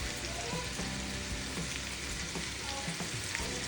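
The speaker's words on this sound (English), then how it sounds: "I'm gonna fry it." Sausage for gumbo fries in a very hot pot, a close, steady crackling sizzle with small pops scattered throughout and no talk.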